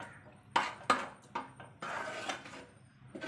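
A utensil stirs thick onion lehyam in a pan, with repeated scraping knocks and clinks against the metal at an uneven pace, close and moderately loud, with no speech.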